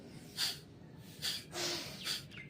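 Kapalbhati breathing: three forceful, evenly spaced nasal exhalations puff out close by, short sharp bursts with quiet gaps between.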